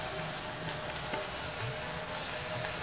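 Onion, garlic and ginger paste fry in a pan as a dense, even sizzle with soft stirring scrapes, moderately quiet and continuous over a few seconds.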